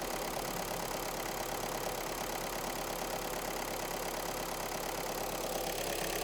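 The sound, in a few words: car engine idling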